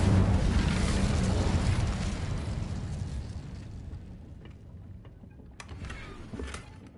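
An Incendio fire spell bursts in the video game Hogwarts Legacy, a loud roaring blast that slowly fades into a crackling tail with a few small pops.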